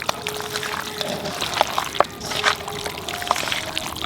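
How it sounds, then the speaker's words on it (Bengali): Mustard oil pours onto a paste of ground green chili, dried chili and black pepper, a soft, uneven trickle with faint splashy ticks, close up and without talk. "এর মধ্যে সরষের তেল দিয়ে দেব।"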